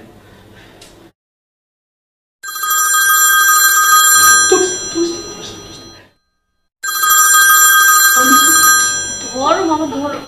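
A landline telephone rings in two long bursts of bright, steady electronic bell tones separated by a gap, loud and close, with a voice speaking over the end of each burst.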